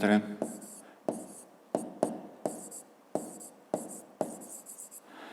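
A pen scratches on paper while solving a physics exercise, in a series of short crisp strokes with brief pauses between them, close and fairly faint, with a voice briefly at the start.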